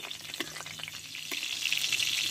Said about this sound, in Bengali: দেখো লঙ্কাটা একটু লালচে করে ভেজে নেব।